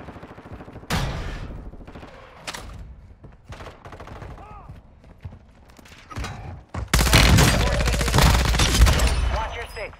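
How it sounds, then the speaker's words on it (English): Gunfire in Call of Duty Warzone, scattered sharp shots and short bursts early, then a dense, loud fusillade of automatic fire in the final seconds, with game voice callouts in between. "Taking effective fire!"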